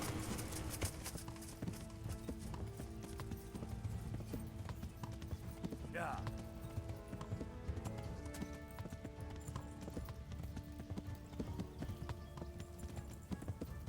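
Horse hooves clip-clop steadily in Kingdom Come: Deliverance, with a single neigh partway through, amid busy battle-camp game sounds, while a voice talks over the action.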